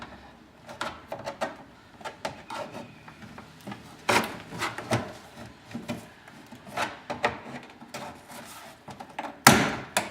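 Plastic retaining clips on a GMC Jimmy front door panel popping loose as the panel is pried off, a series of sharp close snaps and thunks among scraping and rubbing handling noise, with one loud crack near the end.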